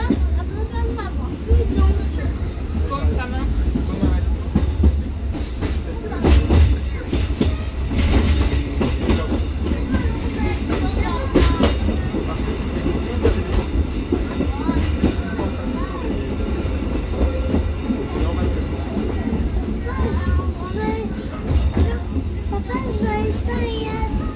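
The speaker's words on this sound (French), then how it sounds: "une sous-station directement en gare de Lamure qui permet à notre train d'avancer" The Petit train de La Mure, an electric tourist train, rolls steadily along its rails with continuous rumbling and repeated clickety-clack over the joints, heard close up while children and other passengers talk throughout.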